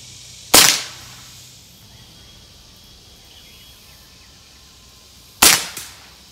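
Two sharp gunshots from a Trapmaster smooth-bore gun firing undersized bullets, several seconds apart, each a loud crack with a short decaying tail over quiet outdoor background.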